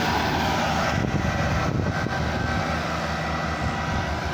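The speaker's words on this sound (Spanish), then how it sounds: "Acá vemos el tractor Case trabajando." A Case 100 HP tractor pulls a 22-disc harrow through wet soil, its engine a steady, loud broadband drone with little variation throughout, no voices present.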